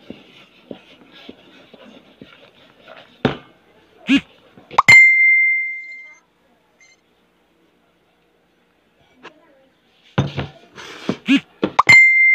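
A single bright cellphone notification ding rings out clearly and holds briefly, surrounded by scattered knocks, clatter and short bursts of household noise in a quiet room.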